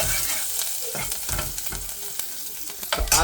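Chili frying in a pan for chicken soup, a loud crackling sizzle with repeated scraping stirs and clacks, close up and without talk.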